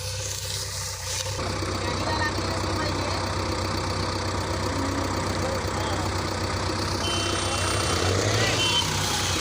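Tractor engines idle with a steady low rumble throughout, pulling out a stuck JCB with three tractors hitched in front, with a heavy-machinery drone and faint beeping over the top.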